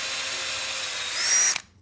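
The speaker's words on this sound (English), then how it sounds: "we're just going to drill a little hole all the way through to get some drainage" Power drill boring a drainage hole through a wood log planter, a steady high whine that swells briefly near the end before stopping abruptly.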